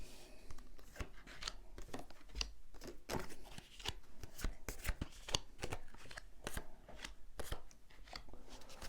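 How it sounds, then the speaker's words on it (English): Tarot cards being laid out one after another on a table, with sharp papery slaps and slides forming an irregular, close run of snaps and rustles throughout, no voices. "So just going to lay down your 10 cards on the table."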